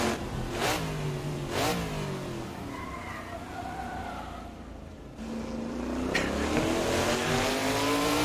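A Trans Am race car in the Assetto Corsa racing game revs hard through repeated rising engine sweeps, loud and close, with a brief tire squeal mixed in.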